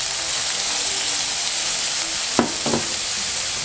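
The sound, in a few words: onions frying in oil and butter in a pan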